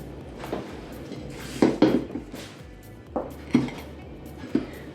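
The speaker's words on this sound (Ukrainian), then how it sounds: "Тепер нарізаємо перчик." A knife slices a bell pepper for a vegetable and fruit salad, with several knocks and taps of the blade on a board, some doubled, close by and over a low steady background hum, with no talking.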